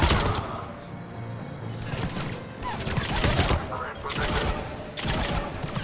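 Gunfire from hip-firing in the video game Mass Effect 3, rapid bursts of shots crackling loudly in clusters amid a dense, noisy battle backdrop with some voice-like activity mixed in.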